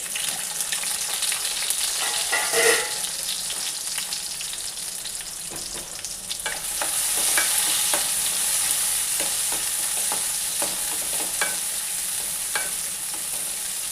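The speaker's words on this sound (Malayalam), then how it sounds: "നെയ്യ് ചൂടായി വരുമ്പോൾ നമുക്ക് ഉള്ളി അതിലാക്കിച്ച്" Onions frying in hot ghee for a Karkidaka kanji give a steady, close, loud sizzle, with scattered clicks and scrapes of stirring throughout and no talking.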